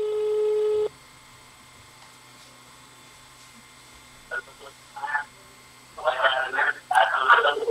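A telephone call on a poor, disturbed line: a steady dial tone cuts off after the first second, leaving faint hiss before a distant voice comes through faintly over the connection.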